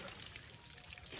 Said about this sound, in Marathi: बघितलं का आमची नदी कशी आहे?